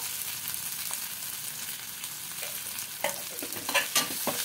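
Ground cumin, coriander and turmeric fry in a pan for an egg curry, a steady close sizzle with scraping stir strokes that grow busier toward the end, no voices.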